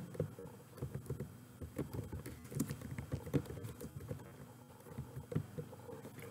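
Typing on a computer keyboard to enter a name into an online banking form, soft irregular key taps close by and fairly quiet, with no talking.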